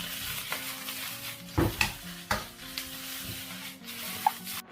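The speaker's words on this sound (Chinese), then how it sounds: "有的人是洋葱鸡蛋分开炒，我这就放一起炒了得了" Onion and egg stir-fry together in one pan, with soft sizzling under a series of scraping strokes and knocks as a utensil turns them. The strokes are irregular and come from close by.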